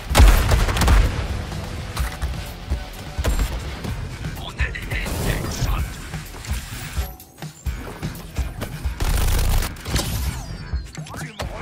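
Gunfire and heavy booms ring out in a combat firefight in the Suicide Squad: Kill the Justice League video game, bursts of shots and impacts churning continuously over a loud, busy mix, with someone talking over it.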